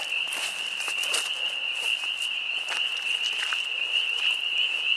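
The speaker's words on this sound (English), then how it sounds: "You hear the frogs?" Frogs croaking outdoors in spring near cherry trees, a steady chorus with a constant high-pitched trill and scattered brief calls, moderately loud with no talking.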